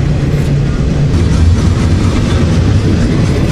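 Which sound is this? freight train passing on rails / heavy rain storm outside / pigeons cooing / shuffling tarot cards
freight train passing on rails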